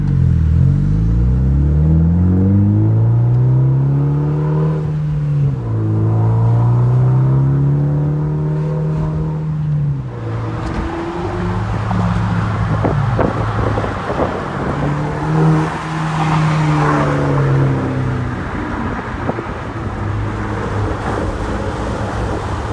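A Mitsubishi Evo X engine with a Cobb Stage 3 exhaust rumbles and revs steadily up and down through the gears, loud and close, with a throaty exhaust note throughout.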